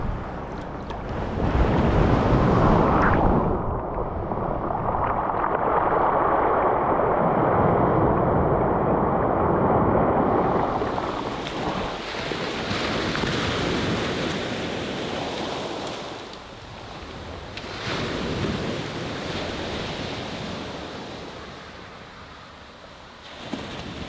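Rough surf pounding a Jamaican beach, waves crashing loud and close with continuous wash and wind buffeting the microphone, swelling and easing over time with no talk.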